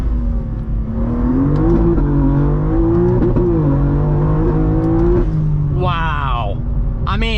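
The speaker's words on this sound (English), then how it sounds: "Let's try a first gear pull." A tuned 720 whp 2023 BMW M2 pulls hard in first gear, heard from inside the car. The engine note climbs steadily and loudly, then drops briefly at the shift before rising again.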